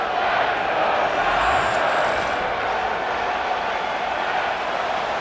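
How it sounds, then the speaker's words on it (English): Stadium crowd noise from a Madden 25 NFL football game, Rams versus 49ers in the fourth quarter ahead of third down, a steady dense roar of cheering that holds loud and unbroken throughout. "This crowd into it now as we get to 3rd down."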